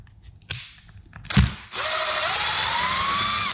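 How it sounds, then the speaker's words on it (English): A powered screwdriver backs out long screws from a wall outlet cover. A few clicks and ratcheting come first, then a steady high motor whine that rises slightly in pitch, close and clear. "These are pretty long screws, so it's easier to use a powered screwdriver."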